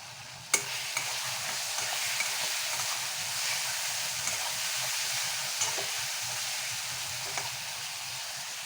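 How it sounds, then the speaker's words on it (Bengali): Potatoes fry in a pan with turmeric and cumin, a steady close hiss of oil broken by a sharp clack early on and a few light stirring taps, with no talk. "লাল করে আলুটা ভেজে নিই"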